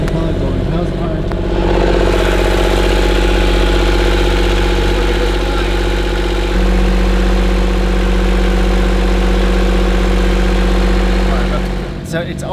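A boat engine idles steadily and loudly up close, a deep continuous rumble that starts up early and cuts off near the end.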